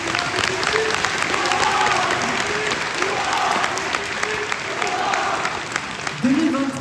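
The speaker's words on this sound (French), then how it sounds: "Je pense qu'on peut encore les applaudir." Audience applause at a Walibi amusement park pass event, steady clapping from a crowd mixed with a voice speaking over it, moderately loud throughout.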